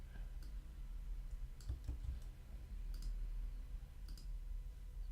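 Mouse clicks on a warning message in a computer app, a few soft, light clicks spaced out over a low steady hum, with no talking.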